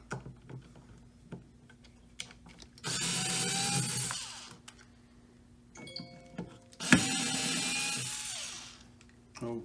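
Two bursts of a power drill or driver backing screws out of an electrical faceplate, each whirring for about a second and a half, with a soft clack between them; close and moderately loud, with no talking.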